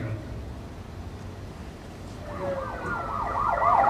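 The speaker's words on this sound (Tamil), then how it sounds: "என்ன நம்ம வண்டிக்கு முன்னால போற போலீஸ் ஜீப்ல இருந்து வர சத்தம் தான் சார்" A police jeep's wailing siren rises and falls repeatedly, growing louder as it approaches over steady traffic rumble.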